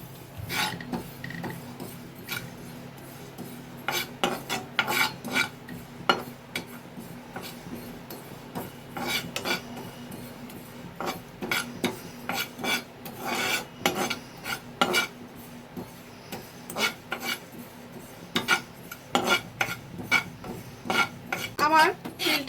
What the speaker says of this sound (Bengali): ভালো করে তিলটা ভেজে নিতে হবে